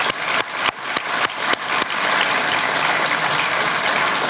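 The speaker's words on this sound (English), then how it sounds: "give a big round of applause to the workers who put this beautiful project together" Loud, close applause for the workers at a rail line opening announcement, starting with a few sharp separate claps that swell into a steady wash of clapping.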